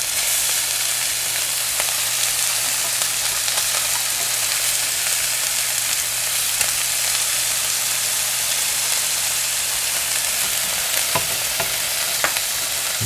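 A pan of frying food gives a steady, loud sizzle and hiss that runs unbroken the whole time, with faint clicks of a utensil over it and no talk.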